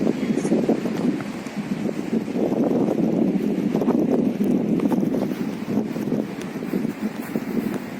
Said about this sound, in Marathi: वारा जोरात आहे